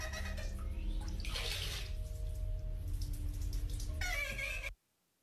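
Water runs steadily from a tap for several seconds, a continuous broadband wash with a brighter splashing surge partway through, then cuts off abruptly into silence.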